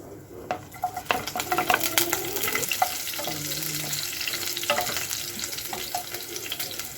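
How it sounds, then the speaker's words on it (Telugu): Half a spoon of mustard seeds crackling in about two spoons of hot oil on a tawa, with sharp scattered pops and spitting over a steady sizzle and occasional utensil clinks, close up and with no voices. "కొంచెం ఒక 2 స్పూన్ల ఆయిల్ వేసి ఒక 1/2 స్పూన్ ఆవాలు వేసుకున్నాం."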